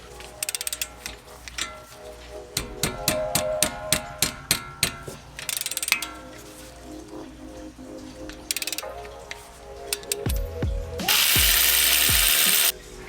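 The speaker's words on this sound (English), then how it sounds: "I'm just taking off the caliper bolts" A 19mm ratchet removing brake caliper bolts on a Subaru WRX, with rapid clicking pawl strokes, metallic knocks and a loud sustained burst near the end, close and without talk.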